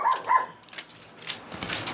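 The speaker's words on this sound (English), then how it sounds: "And she'll never stop barking if she's down there." A small dog barking indoors in a home, two quick sharp yaps close by followed by softer fainter barks, with no one talking over them.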